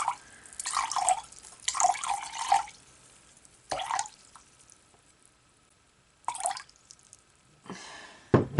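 Water trickles and pours into a container in several short bursts, spaced by quiet gaps, being measured out for a lye solution while making soap.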